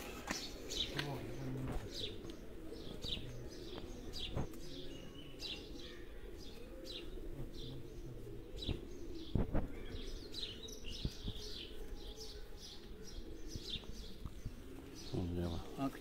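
Racing pigeons at a loft in Kharian coo and chirp softly in the background, with occasional wing flaps and scattered calls, while people talk nearby over a low ambient hum.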